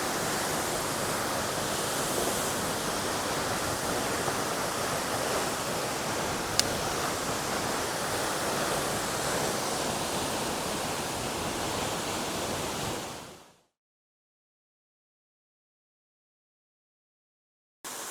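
A waterfall in the Ozarks in early spring, heard as a steady, broad rush of falling water that holds evenly for about thirteen seconds before cutting to silence.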